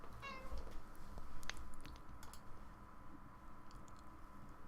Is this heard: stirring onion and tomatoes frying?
no